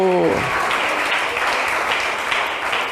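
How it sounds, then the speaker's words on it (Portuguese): A church congregation at a Pentecostal service claps and cheers in a dense, loud, continuous wash of sound, with a brief voice at the very start. "Dê um aplauso, um grito de vitória eterno."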